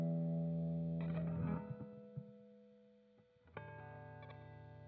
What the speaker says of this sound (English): you need to be a little bit louder, just click that. It'll distort and give you a nice